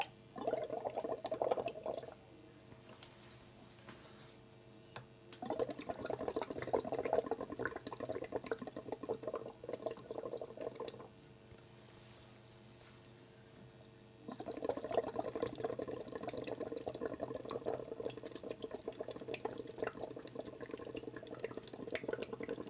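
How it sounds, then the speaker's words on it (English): Bubbles blown by mouth through a straw into a clear solution in a glass conical flask, heard as three long stretches of steady, close burbling separated by quiet pauses. "Place the straw in the conical flask and with your mouth blow bubbles into the solution."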